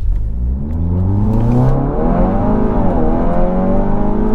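A 2.0 TFSI Audi TT 8S tuned to Stage 1.5 accelerates hard from a standstill, its engine droning loud and close as the revs climb steadily through the gears with brief dips at each shift.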